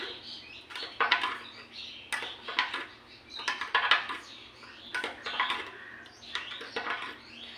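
Wood apple juice with a few drops of lemon juice is stirred, giving a rhythmic series of clinking, scraping strokes about once a second, close by against a quiet background.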